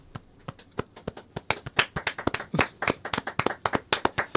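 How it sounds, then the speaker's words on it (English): One person clapping hands, sharp distinct claps close up in an irregular rhythm that quickens into a rapid patter, with no other sound between them. "Oh man, I want to clap."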